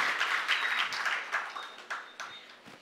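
Audience applause at an oratory contest, a brief, fairly distant round of clapping with uneven bursts that swell and fade over a few seconds.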